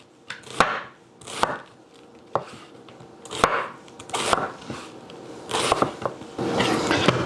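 A knife finely shaves green cabbage for pork belly tacos, producing crisp, close cutting strokes in rhythmic bursts with short pauses between them, and no talking.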